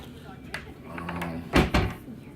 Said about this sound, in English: You got your little drawer there